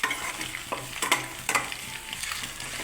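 Food frying in a pan, a constant sizzle punctuated by several sharp scrapes and clatters of stirring at irregular intervals, close and fairly quiet with no voices.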